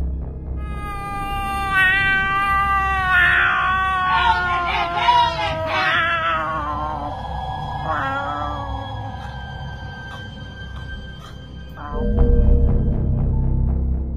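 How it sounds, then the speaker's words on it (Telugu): A creature on hidden CCTV at night gives long, wavering cat-like wails and meows for several seconds, loud and close, followed by a burst of low rumbling noise near the end. "కానీ అచ్చు పిల్లిలాగా అరుస్తోంది."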